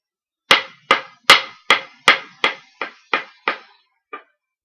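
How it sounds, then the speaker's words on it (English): A hammer strikes pieces of wood while a shelf is being built, about ten sharp, evenly spaced knocks close up in a quiet room, each decaying quickly, the last one softer after a short pause. "Now we just hammer away."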